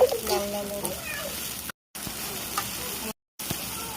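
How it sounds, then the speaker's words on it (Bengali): Spice paste fries and gets stirred in a pan for a spicy country-chicken curry, with bay leaf, cloves, cardamom and mace in the oil; a close, steady sizzle with scraping stirs, briefly cut by two silent gaps. "পেস্টটা নাড়া দিয়ে নিই, পেস্টটা একটু ভাজা"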